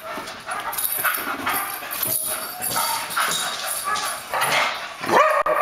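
A dog barks and yips repeatedly nearby, with whimpering sounds and some background noise between the barks.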